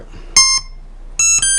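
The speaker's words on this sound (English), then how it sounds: "Sounds like a really harmonic sine wave." Two short bursts of a bright, pure Waldorf Blofeld synthesizer sine-wave tone with clean harmonics, the second a quick double pulse, clear and alone.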